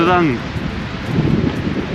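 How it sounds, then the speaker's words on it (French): Strong wind buffets a foam-covered microphone during a long walk toward the Pont du Gard, a dense low rumble running steadily throughout after a brief voice at the start. "Aïe aïe aïe, le vent."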